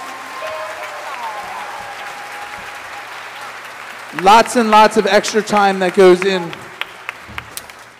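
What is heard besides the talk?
audience applause for students at concert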